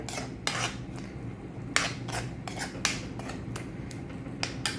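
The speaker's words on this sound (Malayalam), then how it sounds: "അതിനുശേഷം നന്നായി ഇളക്കി കൊടുക്കുവാണ്" A spoon scrapes and clacks against a pan while mango pickle masala with asafoetida is stirred, in sharp scattered knocks over a steady low background hiss, with no talking.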